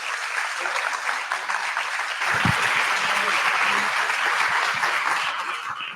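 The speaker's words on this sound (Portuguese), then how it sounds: "Y un aplauso nuevamente para el profesor Limario." Audience at an academic congress applauding a professor, a dense, loud, sustained clatter of clapping from many hands that continues steadily for several seconds, with one sharp thump partway through.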